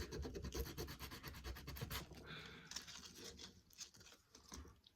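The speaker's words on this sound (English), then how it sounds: "Sand that off a bit. Sorry for the sound." A wooden apothecary cabinet is sanded by hand, giving steady, close rubbing and scratching strokes in a repeated rhythm over about five seconds, with no talking.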